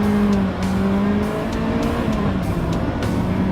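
A Ferrari F50 engine accelerates hard, heard from inside or close to the car, a loud continuous roar with rising engine tones and no talking.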